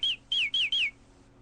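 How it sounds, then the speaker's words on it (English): Bird chirps ring out at the close of a tune: four bright, high, descending tweets in quick succession, fairly loud and clear over a faint low hum, then quiet. "it settles down as nice at the end with birds tweeting"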